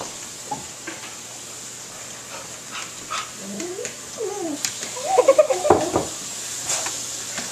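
A dog making low grumbling, groaning vocal sounds that build into a short burst of louder yowls near the end, close by, over a quiet room hum.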